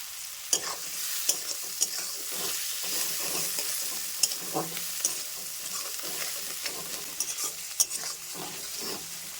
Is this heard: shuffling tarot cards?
no